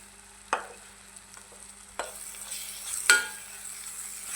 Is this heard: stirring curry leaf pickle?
yes